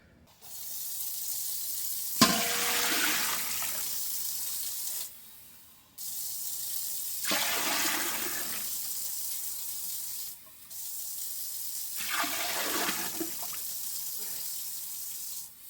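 Tap water gushes into a pot in three long bursts of several seconds each, a loud splashing rush with brief pauses between, no talk.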